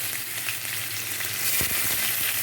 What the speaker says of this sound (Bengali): তেল দিয়ে এখন পেঁয়াজ রসুন আর লঙ্কা এর মধ্যে দিয়ে দিই